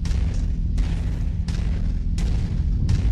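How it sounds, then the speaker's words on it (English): Repeated heavy artillery blasts in the MechWarrior 5 video game, four loud booming impacts at roughly regular intervals over a constant low rumble, each with a sharp crack and fading tail. "Oh crap. Artillery. I think I got clipped slightly."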